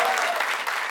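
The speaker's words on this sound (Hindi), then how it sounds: "ताली जरा" Audience applause at a Hindi comedy poetry gathering, a dense wash of clapping filling the brief moment at steady loudness.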